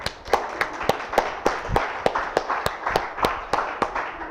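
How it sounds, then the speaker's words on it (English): An audience at a live show gives a round of applause for a volunteer: sharp, close claps land in a quick, fairly even rhythm over a dense wash of clapping, with no talk. "big round of applause"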